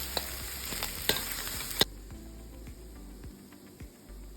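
Egg fried rice being stirred in a frying pan, with a spatula scraping and clacking a few times over a steady sizzle that fades quieter partway through.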